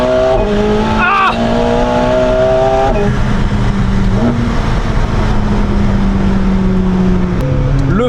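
Fast car accelerating hard with rising engine revs, a few sharp gear shifts and pitch drops as it brakes, loud and close, with brief vocal exclamations mixed in.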